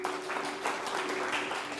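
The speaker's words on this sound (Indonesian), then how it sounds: "Berikan dulu tepuk tangan bagi Tuhan." A church congregation claps in a short, steady burst of applause that is moderately faint and recorded from a distance, with a steady hum running underneath.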